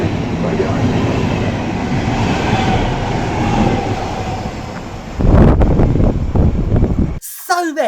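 A regional RB3 train pulls into a German main station: steady rolling rumble and wheel noise for about five seconds, then louder, closer clatter and braking near the end, with a brief jingle-like tone at the very close.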